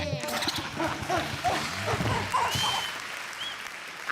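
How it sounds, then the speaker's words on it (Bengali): A burst of clapping from a studio comedy show audience, fading out toward the end, with some voices and cheers mixed in. "জোরে হাততালি দে।"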